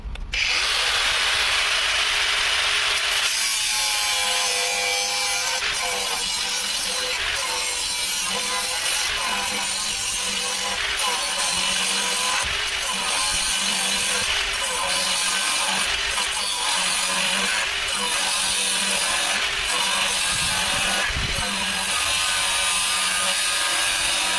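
A Leader 20V 125 mm cordless angle grinder cuts steel in one long, loud, steady run of whining, with a harsh grinding rasp that stays close and continuous for over twenty seconds.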